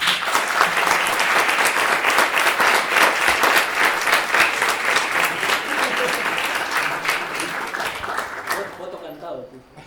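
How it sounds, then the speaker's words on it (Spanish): A museum audience bursts into sustained applause, dense rapid clapping from a crowd that carries steadily for several seconds before tapering off abruptly near the end, with a voice faintly heard as it fades. "les voy a pedir entonces un aplauso para el Aleph primero."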